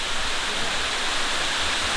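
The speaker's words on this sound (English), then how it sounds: "The sound of crashing water." A large waterfall in Taiwan crashes down in a loud, continuous roar of falling water, a steady broadband rush with no voices.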